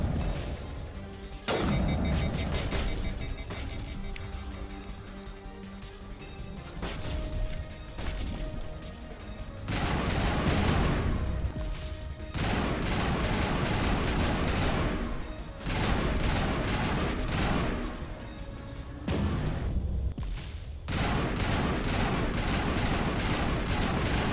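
Weapon fire in the video game Mass Effect Legendary Edition, with loud bursts of shots and impacts in repeated clusters across the stretch, broken by brief quieter gaps and mixed with game music and effects.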